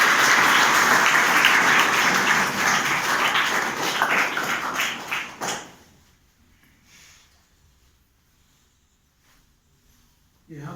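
Warm applause from an audience welcoming guests at Arsha Jyoti Gurukul in Kosrangi, a steady roomful of clapping that carries on for about five seconds and then stops abruptly into near silence.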